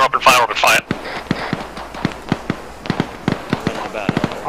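Gunfire in Arma 3 rings out as a rapid string of sharp shots, some close and loud, others fainter, after a brief burst of shouted speech at the start.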